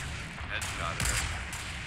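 Rapid gunfire bursts in a Fortnite Battle Royale match, sustained and loud in the game mix with a couple of sharp onsets, under the steady bed of game audio.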